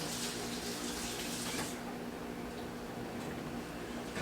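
A kitchen tap runs steadily while asparagus is rinsed under it. The broadband splashing hiss is continuous and fairly faint, with no speech over it.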